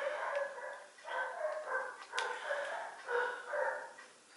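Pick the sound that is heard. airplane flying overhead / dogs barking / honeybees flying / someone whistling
dogs barking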